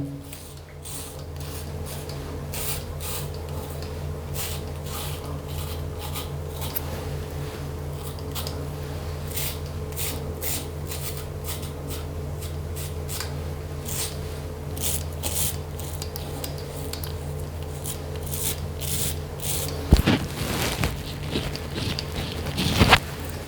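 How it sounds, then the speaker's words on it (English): A Gillette Fusion 5 razor scraping upward against the grain, a rapid run of short raspy strokes repeating throughout, close and fairly quiet, with a couple of louder knocks near the end. "back to the new style, shaving upwards, otherwise known as against the grain"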